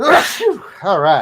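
One sharp human sneeze bursts out close at the start, followed by a short spoken phrase.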